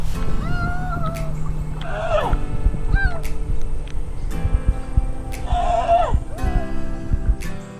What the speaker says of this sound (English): we heard some sea lion noises coming from the mangrove trees